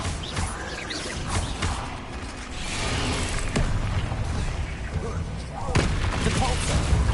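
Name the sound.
Bombarda spell explosions in video game Hogwarts Legacy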